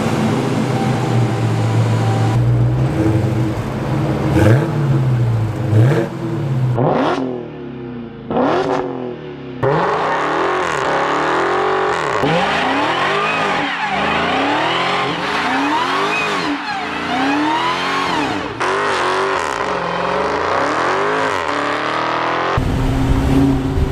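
A 2023 Dodge Challenger SRT Hellcat Redeye engine roars loud and close through repeated rising and falling revs with brief gear-change dips, over a dense, sustained mechanical drone.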